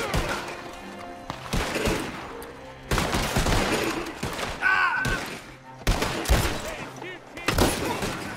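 Gunfire in the video game Red Dead Online comes as loud, scattered shots and small bursts mixed with other busy game noise.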